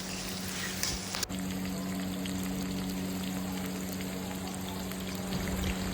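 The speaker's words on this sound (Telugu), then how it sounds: "కోసిన ఎల్లుల్లిపాయని ఆయిల్లోకి వేసేయాలి. వేసినాక అవి కొంచెం క్రిస్పీగా బ్రౌన్ కలర్ వచ్చే వరకు అట్లనే చేసుకోవాలి" Chopped garlic and green chilies fry in hot oil with a dense, steady sizzle and crackle that drops to a smoother, lower hiss about a second in, then runs on evenly with a faint hum underneath.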